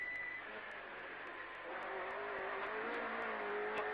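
A rally car with a new 2.5 litre engine runs a stage at the Jersey Rally, its engine a steady, slightly rising drone heard from inside the car, with faint periodic ticks over the top.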